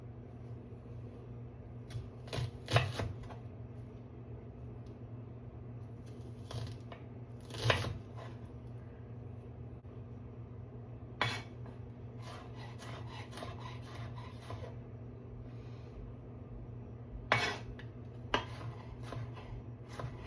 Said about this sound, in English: What I do is I 3 vertical strips, vertical lines, cross cut